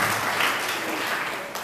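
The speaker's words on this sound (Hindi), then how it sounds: "बजाओ ना ताली।" An audience at a religious discourse breaks into steady, loud group clapping, many hands at once forming a dense continuous patter that tapers slightly near the end, with no talking over it.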